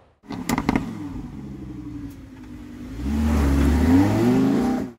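A Lamborghini Huracan sports car starts with sharp revs, settles briefly, then pulls away with a deep, loud, rising engine roar up close.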